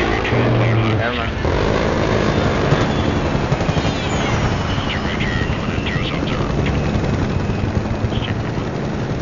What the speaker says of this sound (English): Oh, my gosh, we're still shooting.